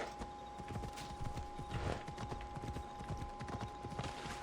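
Horse hooves clip-clop in Assassin's Creed Odyssey as a faint, regular walking rhythm of soft thuds. A low ambient bed runs under the hoofbeats, and no one speaks.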